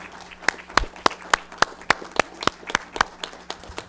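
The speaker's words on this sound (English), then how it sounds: "You guys can stand and applaud." Audience at a county board meeting standing and applauding, with crisp, fairly regular handclaps close by over a softer bed of scattered clapping from the room, moderately loud.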